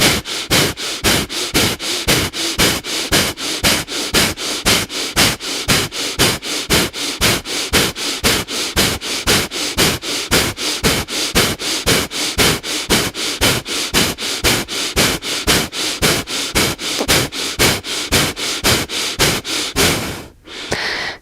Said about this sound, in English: breathe in and out through the nose